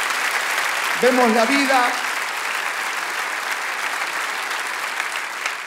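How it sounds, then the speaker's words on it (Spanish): A church congregation gives sustained, loud applause, a dense steady clapping that runs the whole time while a voice speaks briefly over it near the start. "Vamos, dale ese aplauso al Rey de Reyes."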